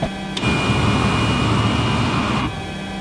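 DC-9 jet engines one and two running, a loud, steady broadband roar with a high whine that starts abruptly, holds constant for about two seconds, then drops back to a quieter hum.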